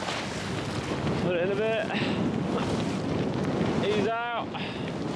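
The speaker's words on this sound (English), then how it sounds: "As you can see, big gust now in a minute." Strong gusting wind roars continuously over the microphone aboard a small 21ft sailboat racing around an island, a loud steady rush with water noise, while a person speaks briefly and whistle-like tones sweep up twice.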